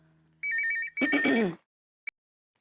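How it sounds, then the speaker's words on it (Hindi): A telephone rings with a bright electronic ringtone in a quiet room: a warbling trill, then a longer melodic burst, then a single short blip after a pause. "आया फोन आया"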